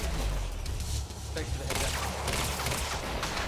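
Gunfire in the video game Quantum Break: bursts of shots and booms under a dense, continuous game soundscape, with a person talking over the action.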